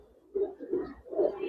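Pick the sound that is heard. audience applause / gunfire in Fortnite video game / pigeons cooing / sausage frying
pigeons cooing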